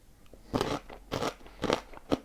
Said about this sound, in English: that's to give you an idea of the crunch that you're about to hear